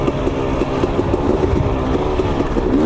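A KTM 250XC two-stroke dirt bike fitted with cone valve forks and Traxx shocks runs steadily close by, its engine holding a continuous buzzing note with slight rises throughout.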